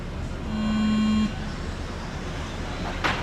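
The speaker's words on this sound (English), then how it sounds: "The sound of the start tone" A single electronic start tone at an indoor RC car championship race, a steady beep lasting under a second above low hall noise, followed by quieter ambience.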